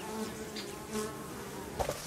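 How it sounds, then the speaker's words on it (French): Wasps buzzing close around beehives during treatment, a steady insect drone with brief louder passes as individual wasps fly near. "Alors les guêpes, elles arrivent à rentrer quand même."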